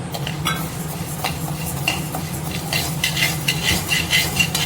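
Dry red rice scraped and stirred while dry-roasting in a pan, with soft rattling and scratching strokes over a steady low hum, no voices.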